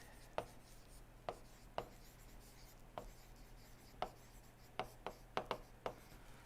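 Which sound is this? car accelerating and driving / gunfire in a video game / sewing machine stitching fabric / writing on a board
writing on a board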